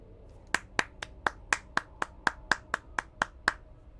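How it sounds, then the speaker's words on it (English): Hands clap about a dozen times in a steady, even rhythm, each sharp clap distinct and fairly close, with quiet between them and no talking. "Everybody clap your hands."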